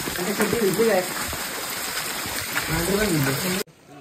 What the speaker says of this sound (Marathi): पाऊस पण खूप मित्रांनो आहे